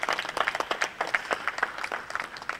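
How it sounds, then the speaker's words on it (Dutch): Applause for the city centre residents at a Hanze café event, a small crowd clapping at a brisk, fairly close rhythm with distinct individual hand claps. "Applaus voor de binnenstadbewoners."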